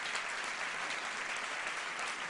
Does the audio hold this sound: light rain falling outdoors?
no